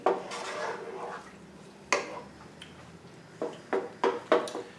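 A utensil stirs cream of coconut (Coco Lopez) in a pan, giving quiet scraping under a soft background with sharp metallic clinks and taps that come more often toward the end.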